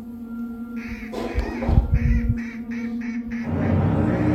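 Several harsh quacks burst out in quick succession near the middle, over a steady background hum.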